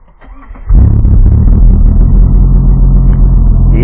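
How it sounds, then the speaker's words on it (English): A car engine cranks briefly and catches, then settles into a loud, steady fast idle held up by the choke mechanism, running alone and close by without talk. "when you go to start Farrar's car,"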